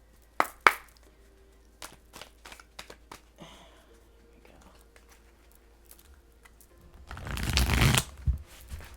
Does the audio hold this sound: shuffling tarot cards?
yes